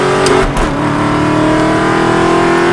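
An Aston Martin engine drones steadily and loud on a track, with a sustained tonal whine as it accelerates smoothly through the gears, close up, with no talking.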